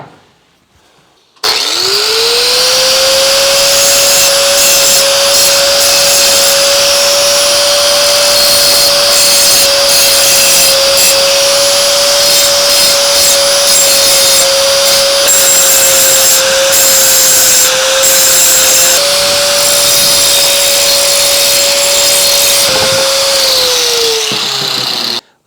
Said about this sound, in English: I changed out my cutting blade here for just a grinder blade